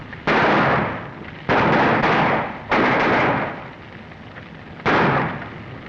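Gunshots ring out in a western movie shootout: four loud, sharp blasts spaced about a second or two apart, each trailing into a long echoing decay, with no talking over them.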